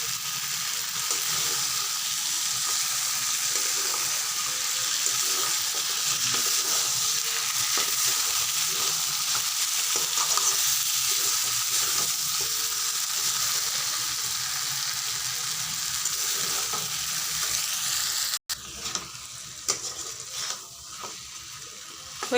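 Spicy chicken kosha sizzling and frying in a pan while being stirred, a loud steady hiss lasting throughout with occasional scraping knocks of the spoon near the end and no talk.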